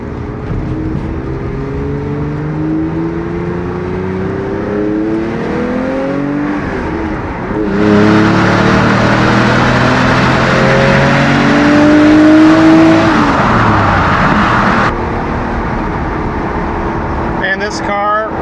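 A Ferrari 400i engine running steadily with rising and falling revs, a loud continuous close drone with a brief harsher stretch midway, voices talking over it.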